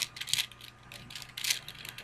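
A 4x4x4 Rubik's Revenge cube being shuffled gives quick, faint plastic clicks and ratcheting turns in uneven bursts, heard close up and fairly quiet.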